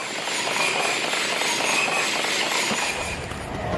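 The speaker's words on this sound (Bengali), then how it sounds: "এই যে ট্রেনটি গেল" A train passes nearby as a broad, steady rumbling roar with faint high squeals that holds for several seconds before easing slightly; no talk.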